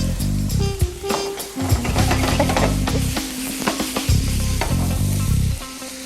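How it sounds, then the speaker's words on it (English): Red onions sizzle and fry in hot oil in a pan, a loud continuous crackle close up, with stirring scrapes and clatter throughout. "So we have some oil going, a little bit of red onions"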